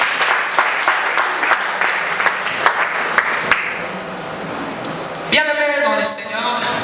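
A church congregation applauds, a dense run of handclaps that fades after a few seconds before a single voice begins speaking.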